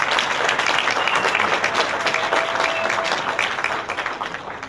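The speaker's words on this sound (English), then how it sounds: "Everybody give Daniel a hand clap as well." Lively congregation applause honoring a graduate at a church service, loud dense clapping close by that tapers off near the end.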